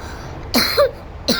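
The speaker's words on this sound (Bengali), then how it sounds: "কাশি দেখো" One person coughs in short, harsh bursts close to the microphone, two quick coughs followed by a third a moment later, with a quiet background.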